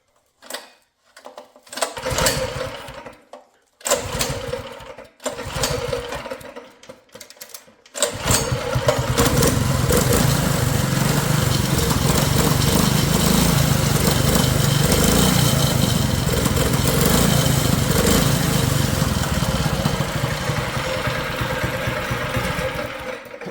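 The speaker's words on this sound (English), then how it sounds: "So let's try to start it here." A Predator 212 engine on a homemade racing mower cranks in several short bursts, then catches and runs steadily at a loud, rough, constant drone for the rest of the clip.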